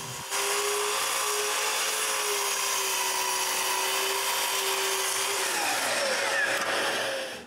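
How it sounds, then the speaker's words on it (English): Power saw cutting through a 6x6 wooden post in a workshop, a loud, steady high-pitched whine running for several seconds, then dropping in pitch and spinning down near the end. "I need to cut all my 6x6s in two passes."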